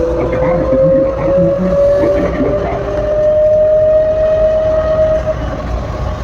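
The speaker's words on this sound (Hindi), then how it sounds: "हम एयरपोर्ट के अंदर मेट्रो पे बैठे, फर्स्ट टाइम मैंने देखा मेट्रो सऊदी अरेबिया में।" A fast single-rail airport metro train in Saudi Arabia rumbles loudly and steadily from inside, with a sustained whining tone riding over the continuous roar.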